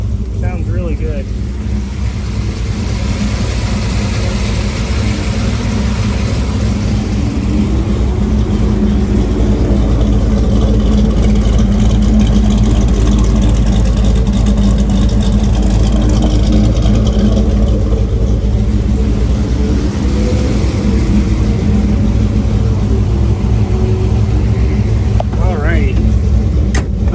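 A 1933 Ford Roadster engine running steadily just after startup, a loud continuous low rumble close by with slight swells in revs, no pauses throughout.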